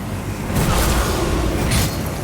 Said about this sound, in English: I cannot see with all these explosions happening around me.